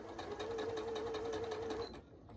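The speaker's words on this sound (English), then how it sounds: "stick it underneath the sewing machine, and chain piece that baby" A sewing machine chain piecing a four patch quilt block runs steadily at close range with a continuous whirring hum and rapid needle rhythm, stopping near the end of the clip.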